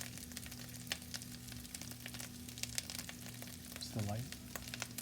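Pork chorizo and eggs fry in a non-stick pan with a steady crackling sizzle, broken by light scrapes of stirring and a louder scrape near the end, while a low hum runs underneath.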